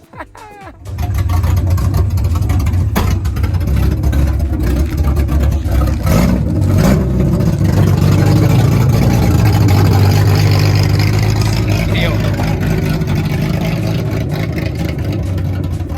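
A Datsun 240Z engine with open exhaust headers and no muffler barks to life and revs hard and raw, loud and close, with voices faintly underneath.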